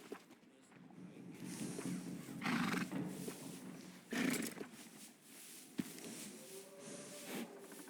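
A horse in Red Dead Redemption 2 snorts and whinnies a few times at moderate distance over a low ambient backdrop, with occasional thuds.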